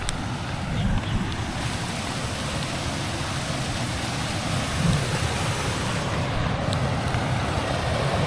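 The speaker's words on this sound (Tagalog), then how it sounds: "Baka lumakas pa yung ulan." Steady, heavy rain pours down in a constant wash of noise, with a low rumble underneath and no voices.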